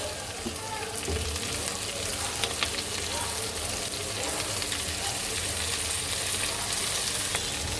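Chopped potatoes, green chillies and large-cut onions fry in a pan for a shrimp curry, a steady dense sizzle that runs throughout with occasional stirring scrapes.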